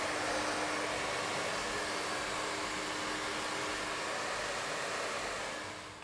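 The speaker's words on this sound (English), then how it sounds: "Okay honey, so I've got my hair dryer." A hair dryer blows at a constant high setting to heat a fringe roller, a close, even whooshing hum with a faint tonal whine that tapers off slightly at the very end.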